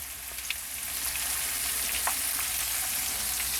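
Sliced paprika and onion stir-frying with sausage in a pan over medium heat, a steady close sizzle with faint crackles and a small clatter right at the end.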